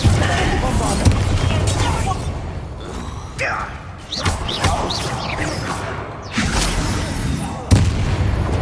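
Bombarda spell blasts in Hogwarts Legacy land as a string of loud booms, thumps and crashes amid combat clatter, with sharp hits around the middle and a strong impact near the end, with a voice talking under the din.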